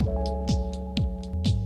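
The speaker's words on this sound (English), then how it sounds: "I could use the phaser on here" A synth with a phaser effect in a house music track plays a steady sustained chord, pulsed by a thumping low kick on a regular beat and bright hi-hat ticks between, close and loud with no talking.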